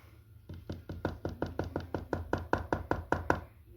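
Knuckles rap on wood in a quick, even run of about fifteen sharp knocks, close and clear, starting after a brief pause and ending abruptly with no voice over them.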